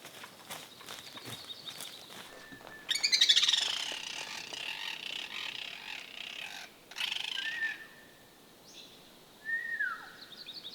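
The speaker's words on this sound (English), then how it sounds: "The birds called us over here." Birds call in a burnt-out Canadian wildfire forest, a few brief chirps and whistled notes spaced apart, some close and some farther off, with footsteps crunching and rustling in between.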